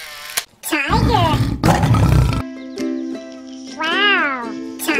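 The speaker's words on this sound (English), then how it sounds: "Wow. Tiger." Tiger roar in a children's animal-names learning song: a loud growling roar up front, then a sung melody with a steady tone and rising, falling vocal phrases.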